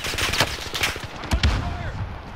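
Rapid gunfire from the video game Call of Duty: Modern Warfare, loud bursts and single shots crackling close by while players talk over it in Spanish.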